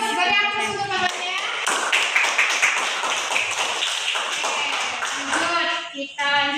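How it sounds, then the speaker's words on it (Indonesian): Classroom applause for a man praised for his silat achievements, steady clapping from a group mixed with children's voices and chatter throughout. "Beri aplaus untuk Bapaknya."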